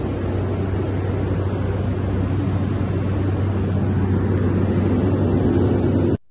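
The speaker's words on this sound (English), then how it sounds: "you've got to get a seaplane to an island called Dry Tortugas" A seaplane in flight to Dry Tortugas, off Florida: a loud, steady engine drone with a broad rushing roar that holds constant from start to finish.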